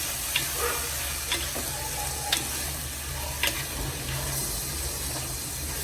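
Washed dried anchovies fry in a pan for an anchovy thoran. A steady sizzle is broken by a few soft stirring scrapes over a constant low hum, with no voices.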